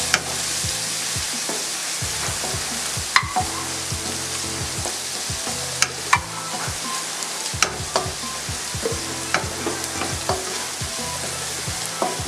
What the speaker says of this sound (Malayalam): ഇതൊന്ന് നന്നായിട്ട് മൂത്ത് വരുന്നോണം വരെ ഒന്ന് ഇളക്കി കൊടുക്കാം.